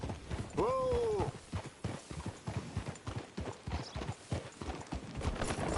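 Horse hooves clop in a quick, steady rhythm on a dirt trail in Red Dead Redemption 2, close and continuous, with a brief whinny early on and mechanical rattling beneath.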